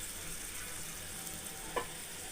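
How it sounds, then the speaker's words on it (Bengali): Fried potatoes go into a pan of sizzling country chicken cooked in mustard oil, a low steady frying hiss with one brief clatter near the end. "এই যে ভেজে রাখা আলুগুলি দিয়ে দিচ্ছি।"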